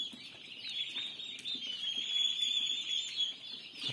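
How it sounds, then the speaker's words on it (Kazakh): Chicken chicks in a brooder under heat lamps, a crowd of them peeping continuously in a high, shrill, overlapping chorus heard close. "Мына жақта тауықтың балапандары."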